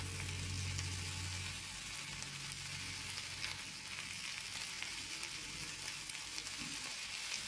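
Pav bhaji masala sizzling in a pan after a splash of water is added, a continuous soft hiss and crackle of frying at low to moderate volume, steady throughout with no talking.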